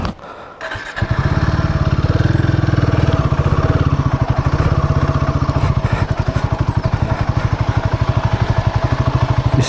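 A sport motorcycle labors along a slippery road, its engine loud and close with a steady throbbing beat that holds after a brief rough start.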